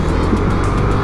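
Cars pass on a busy road in Bulacan, Philippines, with loud, continuous engine drone and tire hiss close to the microphone.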